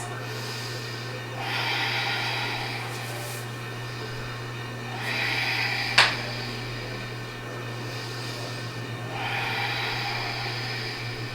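Slow, deep breaths taken during a reclining yoga twist with legs dropped to one side over a prop, three long airy swells spaced across the stretch over a steady low fan-like hum, with one sharp click near the middle.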